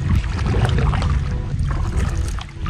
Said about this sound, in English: Just want to take it nice and easy in a kayak, especially when you're paddling and not with a motor.